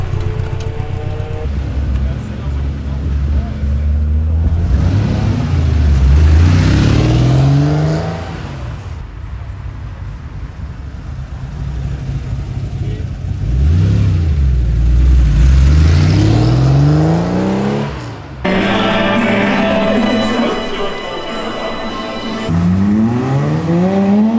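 A Porsche 356 sports car engine revs and whines as it pulls in close, rising and falling through several throttle bursts over a steady idle.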